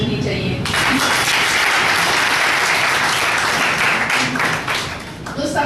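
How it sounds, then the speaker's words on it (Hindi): An audience at a national seminar in Pune on saving the girl child breaks into loud, sustained applause that swells in quickly and holds strong before tapering near the end, with some voices mixed in. "इसके लिए जरूर तालियां बजनी चाहिए"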